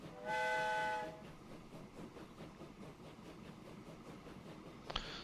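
A train leaves the depot in the video game Transport Fever 2. A horn blast opens, then a steady rolling clatter with rhythmic wheel beats, and a short bright sound comes near the end.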